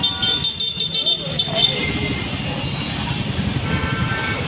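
Busy street traffic in an Indian market during Dhanteras shopping: a steady rumble of vehicles with repeated honking horns, loudest near the start, and people's voices in the background.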